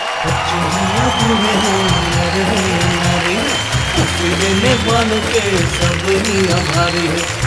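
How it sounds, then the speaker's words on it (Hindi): Loud, sustained applause and cheering from an audience honoring Dr. Surendra Dubey on stage at a comedy show, continuing steadily throughout with voices or music layered over the clapping. "हम जोरदार तालियां बजाएंगे डॉक्टर सुरेंद्र दुबे के लिए"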